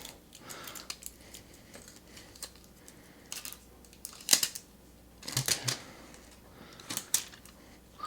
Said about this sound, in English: I'm taking the plastic off now